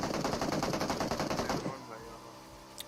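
Rapid automatic bursts from a Scar-L assault rifle in a battle-royale shooter's last-zone fight, loud and continuous for about a second and a half, then cutting off as the weapon goes to reload, leaving quieter game ambience.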